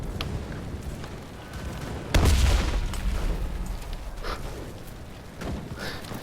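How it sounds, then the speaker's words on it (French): A tank blows up in a war video game, a single heavy boom amid scattered distant gunfire, loud and alone with no talk over it. "il y a un char qui explose"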